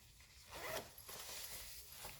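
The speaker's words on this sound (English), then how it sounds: "You put it into the bag, throw it in there, zip it up" A small cloth pad bag is zipped shut close up, a faint, steady scratchy zip lasting a couple of seconds in a quiet room.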